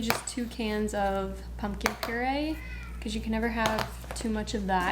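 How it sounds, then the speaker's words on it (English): Cats meowing from inside a closed bathroom, repeated rising and falling meows heard clearly throughout while someone talks over them. "Sorry if you can hear the cats in the background."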